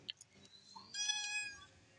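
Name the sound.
cat meowing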